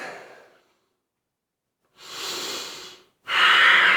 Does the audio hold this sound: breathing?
yes